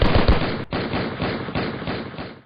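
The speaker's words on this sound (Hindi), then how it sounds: "और यहां पहुंचने के बाद अंधाधुंध गोलियां बरसाई जाने लगीं।" Indiscriminate gunfire in a rapid, dense burst, loud and close, with a short gap before the shots continue and slowly fade out.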